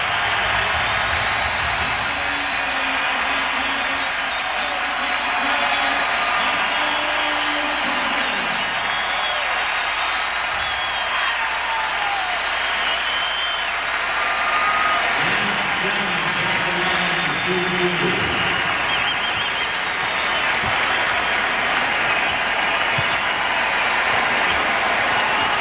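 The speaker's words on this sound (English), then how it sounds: "the entire timeout, a whole building standing and cheering" A basketball arena crowd at an NBA game between the Wizards and 76ers stands applauding and cheering through a timeout, a dense, loud, continuous roar of clapping and shouting that fills the whole stretch, with an announcer talking over it.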